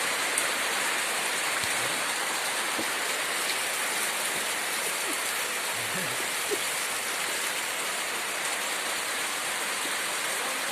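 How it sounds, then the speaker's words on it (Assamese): Heavy rain pours down steadily in a dense, continuous hiss, with no pauses across the whole stretch. "ধমাধুম বৰষুণ চা"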